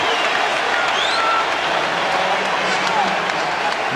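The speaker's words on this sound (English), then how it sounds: "Crowd's going MVP one more time." A basketball arena crowd at a 2001 NBA East Semifinals game between the Toronto Raptors and Philadelphia 76ers in Philadelphia, cheering and chanting in a steady roar under a commentator's voice.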